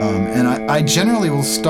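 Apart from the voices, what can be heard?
None of the usual background noises is heard.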